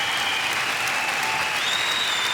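Audience applause for a Swiss singer, a steady, dense wash of clapping hands from a large crowd that holds evenly throughout without pauses.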